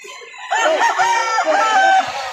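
A rooster at a chicken market in Lipa City, Batangas, crows once in a loud, close, drawn-out call with clucking fowl around it and light talk nearby.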